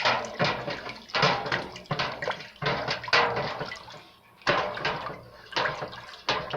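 Caramel apple moonshine mixture stirred in a container, a close series of liquid sloshing swirls in repeated surges with brief pauses, alone without speech.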